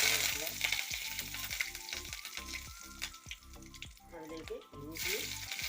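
Mustard seeds, a dried red chilli and curry leaves crackle and sizzle in hot oil, with rapid popping bursts over a steady hiss, close up; background music with a regular beat plays underneath.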